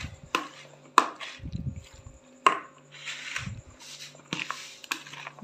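Aloo chana chaat with green chili and salt is stirred in a bowl, giving irregular close clinks, knocks and soft scraping of a spoon, quiet between bursts.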